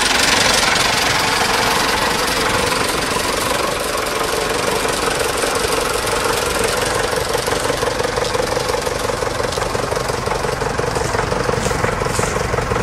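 An old tractor engine idles steadily at a vintage tractor run, a continuous rough, knocking chug with a fast regular beat, close and loud throughout with no talking.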